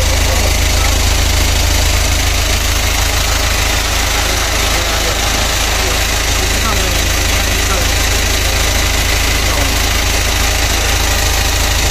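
A motorbike engine idles steadily up close, a loud continuous low rumble with a buzzing vibration that never lets up, while someone talks over it throughout.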